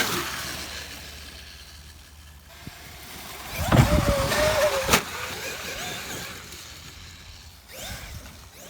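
A Traxxas X-Maxx RC monster truck with a new center differential, out bashing and jumping, revs its electric motor in a brief whining burst, amid thumps and scuffs of landing against faint outdoor background noise.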